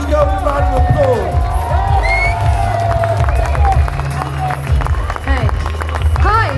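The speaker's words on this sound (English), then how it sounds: "Give these girls a round of applause." Loud protest crowd in London cheering and clapping with shouts and excited voices on top, a busy, close mix with a low rumbling undertone.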